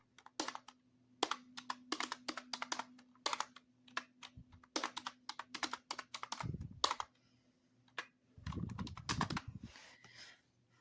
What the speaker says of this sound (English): You can't see the keyboard, so you won't be able to get my password